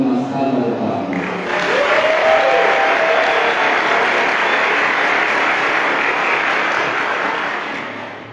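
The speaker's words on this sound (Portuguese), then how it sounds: "Queremos dar as boas-vindas de forma especial ao nosso irmão, o Frei Roberto Carlos, com uma salva de palmas." A congregation at a solemn religious profession welcomes Friar Roberto Carlos with a round of applause, full steady clapping that swells after a voice speaking at the start and continues evenly, fading slightly at the end.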